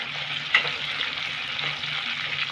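Green chillies and a little asafoetida stirred into hot oil for aloo jeera, giving a steady close sizzle with soft scraping of the spoon through the pan, uninterrupted and without talk.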